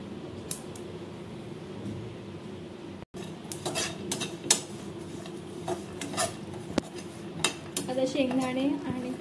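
Grated coconut tipped into a pan of roasting peanuts and sesame seeds, with scattered metallic clinks and scraping from a utensil against the pan over a steady low hum, and someone speaking softly.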